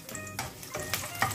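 Garlic sizzles in olive oil in a pan, a steady crackling fry with a few clinks of a utensil stirring, close and fairly quiet, with no voices.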